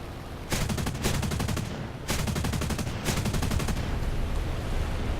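Aircraft machine guns fire in War Thunder, three long rapid bursts of evenly spaced shots, loud and near, separated by short gaps with engine drone beneath and no talk.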